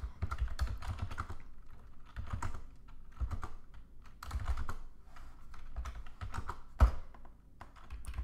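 Rapid keystrokes on a computer keyboard while entering a Node.js command-line instruction, close and steady in bursts with short pauses and one sharper tap near the end, no speech.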